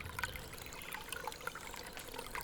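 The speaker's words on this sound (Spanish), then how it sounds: "En la selva, el agua limpia aún transparente brota de la tierra." Clean water trickles up from the ground in a jungle, a faint, soft, continuous bubbling with small irregular splashes.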